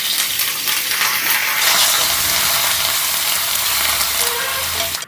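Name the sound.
tempering with curry leaves and asafoetida sizzling in oil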